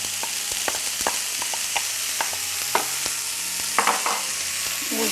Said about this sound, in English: We'll saute until tender for 5 minutes or so